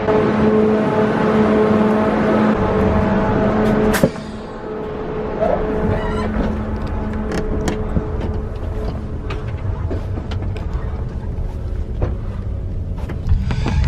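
Inside a TGV high-speed train bound for Bordeaux, a steady, loud rolling rumble and whir fill the cabin, shifting after a brief thump, with faint ticks and rattles throughout.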